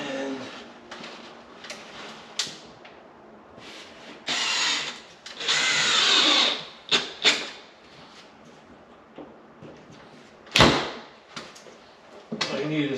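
A power drill drives drywall screws into wooden blocking for kitchen cabinets, with short whirring bursts at irregular intervals, one longer loud run midway, and a sharp knock late on.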